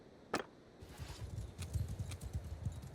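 Horses in Mount & Blade II: Bannerlord move off in a rapid, irregular clatter of hoofbeats, close and moderately loud, after a single sharp knock at the start.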